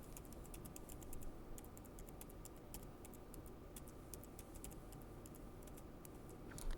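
Quick, light keystrokes on a computer keyboard clatter in irregular bursts while text is entered into an HTML form, faint and close against a quiet background hum.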